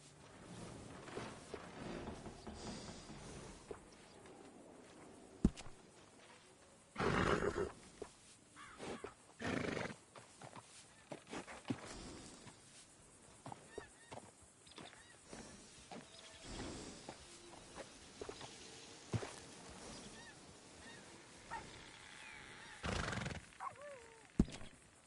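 Horses whinnying and neighing several times at varying distances, with hooves clip-clopping and scattered rustling, moderately loud bursts over a quiet outdoor background.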